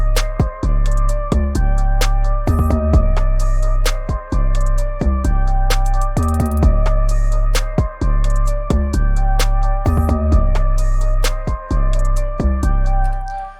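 808 kick drum with a tight transient spike, a little low belly and a riding sustain, shaped by a transient plugin and punching through a full, dense mix of steady beats and tonal parts, loud throughout.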